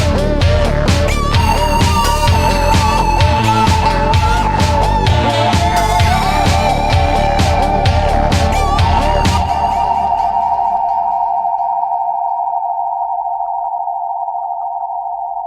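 Korg MS-20 synthesizer pushed into filter resonance feedback, a dense, loud mix of tones that settles into a sustained ringing feedback tone, which holds steadily and slowly fades over the final several seconds.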